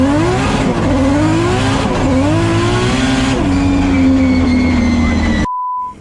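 An FD car drifts with a loud, continuous engine roar and tire squeal, pitch sliding and wavering throughout, until the sound cuts off abruptly near the end.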